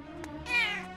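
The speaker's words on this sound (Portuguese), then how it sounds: "Você é uma gata danadinha!" A cartoon cat gives a single short, loud meow that rises and falls, heard alone.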